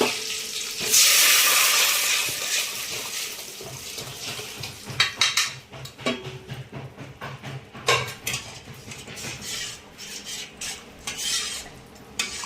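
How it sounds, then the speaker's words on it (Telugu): Hot oil sizzles sharply as tempering spices and curry leaves hit the pan for tomato rasam, then the hiss fades under stirring, clinks of a utensil and scattered pops. "తాలింపు వేగించే"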